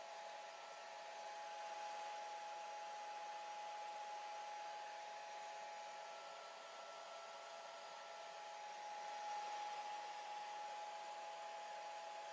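A hair dryer drying a watercolor painting of a resting wood duck, a continuous steady whooshing hum with a faint whine that holds level for the whole stretch, close and alone without speech.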